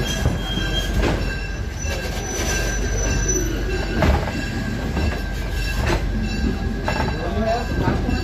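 A train rumbles steadily with metallic wheel squeals rising now and then, close and continuous, as it rolls slowly into Smith Creek Station at Greenfield Village.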